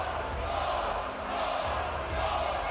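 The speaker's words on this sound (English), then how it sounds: "And the Canadian fans chanting goal." Canadian fans crowd an ice hockey arena at a junior world championship game against Finland, their massed voices rolling in a steady, loud roar of chanting under commentary.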